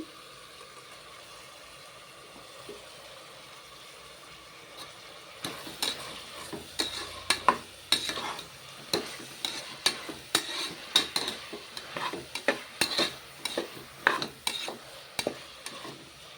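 Ginger and garlic sautéing in a pan for a coconut milk pulao, at first faint and steady, then repeated scraping stirs over a low sizzle for about ten seconds.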